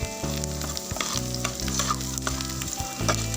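Curry leaves crackle and sizzle loudly in hot oil in a pan, cooked tribal style for a fish curry, with bursts of spitting and the clatter of stirring.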